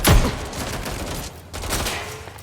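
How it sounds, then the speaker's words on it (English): A loud burst of rapid gunfire up close in the video game Watch Dogs Legion, followed by further scattered shots and crackling bursts. "We have gunfire!"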